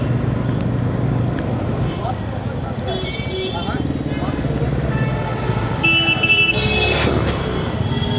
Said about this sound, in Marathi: भरपूर ट्रॅफिक आहे.